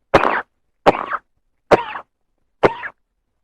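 Four separate coughs, evenly spaced about a second apart, close and fairly loud with silence between them.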